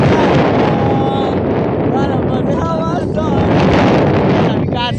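Wind blows hard in Mustang, a dense, steady roar buffeting the microphone for several seconds, with a voice faintly mixed in beneath it.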